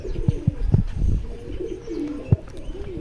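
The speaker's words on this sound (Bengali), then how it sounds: "এখানে আরেক জোড়া জিরিয়া পায়রা আছে দেখতে পাচ্ছ" Pigeons coo nearby in soft, low repeated calls, several overlapping hoots with a sharp tap or flutter near the end, against a quiet background.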